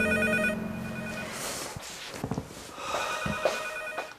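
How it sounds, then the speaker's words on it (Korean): A telephone rings in a Korean drama scene, a fairly faint electronic ring that sounds at the start and returns after a short gap, mixed with light movement sounds. "뜻밖에도 장 대표에게 전화가 걸려오며 두 사람의 연애 전선에 장애가 생깁니다."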